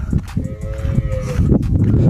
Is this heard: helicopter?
no